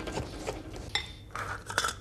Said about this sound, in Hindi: मक्खन को इसके साथ अच्छी तरह से मिक्स कर लें।